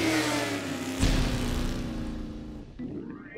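An old motorbike engine revs loudly, the pitch climbing and then easing off as it drops back, close and steady throughout.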